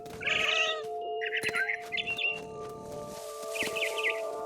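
A cat meows repeatedly in What Remains of Edith Finch, several short plaintive calls spread through the clip over a steady tonal hum, with bird-like chirps mixed in.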